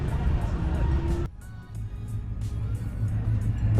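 A small Fiat car fitted with a 383 engine rumbles and revs nearby, its deep growl dipping briefly before building again, with people talking over it.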